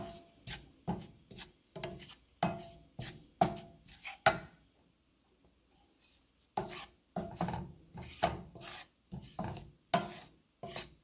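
All-purpose flour, gram flour and melted butter, 50 grams each, being roasted and stirred in a pan over a very low flame: repeated scraping strokes in a steady rhythm, close and quiet, with a brief pause midway.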